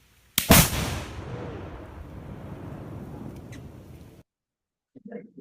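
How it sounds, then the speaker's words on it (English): A single massive boom erupts outdoors, then a long rolling echo rumbles and fades for several seconds before cutting off, with a brief murmur after. "The echoes give you a clue as to how loud this is."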